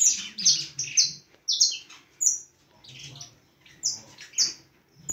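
Canaries in a breeding room give bright chirps and short song bursts in quick clusters, with small gaps between phrases and soft low chatter beneath, close and clear with no talk.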